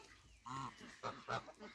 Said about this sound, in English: The geese know it's flocking.